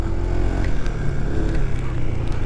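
A 2025 Honda PCX 160 scooter engine under way, a steady low hum with a faint droning tone and road rumble, continuous and even throughout.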